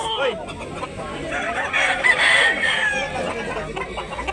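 A rooster crows loudly and close by in a rural Cebu setting, one drawn-out call rising and falling over a few seconds, with faint clucking and background murmur around it.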